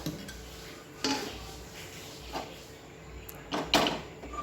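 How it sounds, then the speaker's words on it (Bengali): A metal wok set down on a gas stove in a home kitchen, giving a few separate faint clunks and scrapes spread over several seconds with quiet gaps between them. "কড়াই বসিয়ে"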